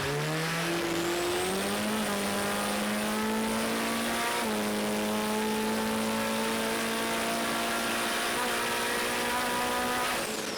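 A Nissan S15 drag car's engine screams loudly as it accelerates hard through rising gears, each shift dropping the pitch before it climbs again, dominating from start to finish.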